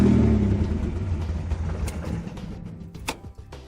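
A Toyota 3VZ-E V6 engine starts up and runs with a low, heavy rumble that starts loud and gradually settles, with a few sharp clicks and knocks near the end.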